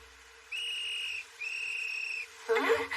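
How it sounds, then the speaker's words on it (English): Two clear, sustained high whistle tones, each about a second long with a short gap between them, sounding alone and fairly close, followed by a brief burst of warbling chirps. "If I recall, that whistle means..."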